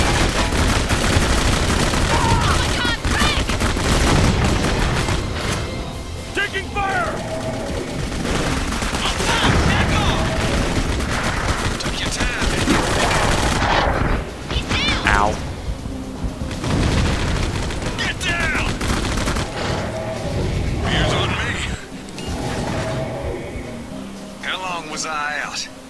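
Gunfire and explosions in the video game Clive Barker's Jericho, with dense bursts of shooting and booming blasts throughout, while players talk and shout over the combat.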